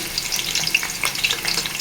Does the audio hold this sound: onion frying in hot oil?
yes